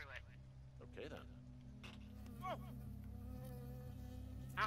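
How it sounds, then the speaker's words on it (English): A bee buzzes loudly and steadily up close in the video game Firewatch, a droning insect hum that keeps going while people talk over it. "It's just a bee"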